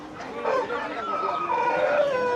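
Native chickens at a riverside bazaar, clucking and crowing close by amid market bustle, with voices talking over the birds.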